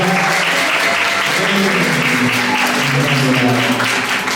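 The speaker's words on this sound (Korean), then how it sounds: "큰 박수로 부탁드리겠습니다." Wedding guests applaud loudly in a banquet hall during a ceremony, sustained thick clapping from a large crowd with a voice and background music audible underneath.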